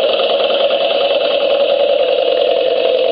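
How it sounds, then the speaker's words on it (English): A small Stirling engine drives a little electric generator, giving a steady, loud mechanical hum with a constant whirring tone and no change in pace, close by and alone without talk. "we have an engine, a Stirling engine running"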